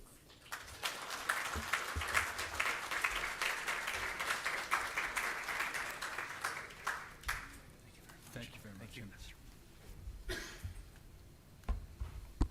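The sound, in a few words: audience applause welcoming an ambassador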